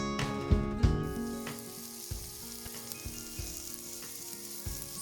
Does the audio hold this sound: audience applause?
no